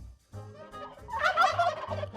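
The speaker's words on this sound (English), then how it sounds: "The turkey is American, the calls are American." Wild turkey gobbling, a single loud, rapid rattling gobble heard close and clear, preceded by a brief lower note.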